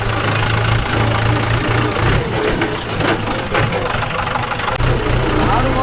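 A Mahindra 575 DI tractor engine runs loud and close in farmland, rumbling steadily with a few swells of throttle, while people talk over it.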